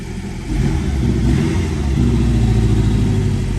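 A Porsche 718 Cayman S with a 2.5 litre petrol engine revs up after a brief lull, a loud, deep, sustained rising engine roar close by, alone without talk.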